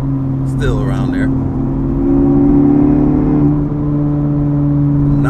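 An Acura Integra Type S with a Milltek Sport catback exhaust revs steadily around 4,000 rpm short of full throttle, a close, loud drone with harmonic tones that rise slightly midway, while a voice talks briefly near the start.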